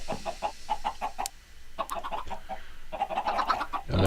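Chickens in a video game cluck in quick, uneven bursts, close and moderately loud, with several birds calling over one another.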